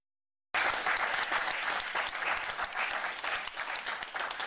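Enthusiastic crowd applause and acclamation at a political meeting backing President Paul Biya in Cameroon, a sustained, dense clapping from many people starting abruptly after a moment of silence.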